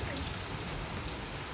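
Heavy rain pours steadily and loudly on surfaces in a broadband, continuous wash, with no talk heard.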